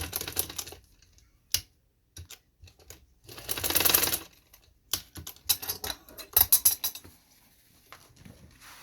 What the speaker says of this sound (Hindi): चलें इसको भी मैं लगा देती हूँ सिलाई